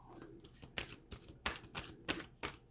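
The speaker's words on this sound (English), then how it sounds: "One more shuffle." A deck of cards is shuffled in a string of quick riffling bursts, about seven crisp flutters with short pauses between them, close but fairly quiet, with no talk.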